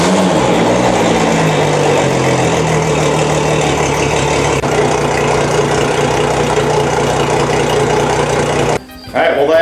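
A Mercury Verado outboard motor runs in a garage after an oil change, a loud steady idling drone close by that holds throughout, cutting out briefly near the end.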